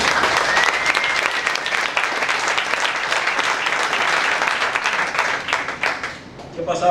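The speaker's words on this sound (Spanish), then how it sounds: "Den un fuerte aplauso al Señor." A church congregation at a Spanish-language Sunday service bursts into strong, continuous applause with dense clapping, fading toward the end as a voice briefly speaks.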